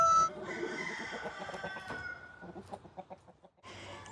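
Chickens cluck in short, soft bursts, a quick run of rhythmic clucks toward the end, fairly close but quiet.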